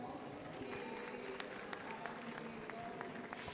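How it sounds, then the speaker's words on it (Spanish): Quiet, distant audience applause at an education workshop, a soft continuous patter of clapping with a faint murmur of crowd voices beneath. "Un aplauso."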